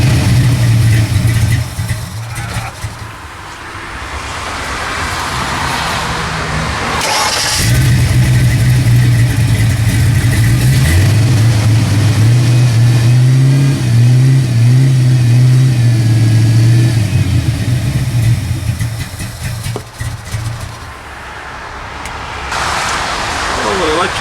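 Ford Fox Body Mustang engine cranking, catching and then revving, a loud close rumble rising and holding before dropping back to idle, with people talking around it.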